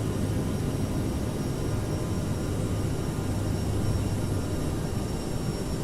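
CRJ7 twin jet engines at climb thrust in Microsoft Flight Simulator, a steady, loud, broadband roar with a low hum, constant throughout with no talk.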